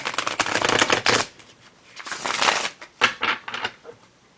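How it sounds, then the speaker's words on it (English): A deck of cards being shuffled in several quick riffling bursts, crisp and close, with short pauses between them and no talking. "now I'm going to shuffle the deck."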